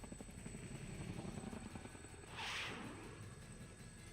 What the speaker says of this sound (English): There's a deafening roar, and the helicopter shakes madly but recovers.